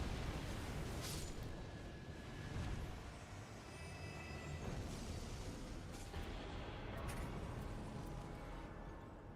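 Explosions rumble through a boss fight in the video game Elden Ring Nightreign, a dense, continuous roar broken by several sharper blasts, with no talking.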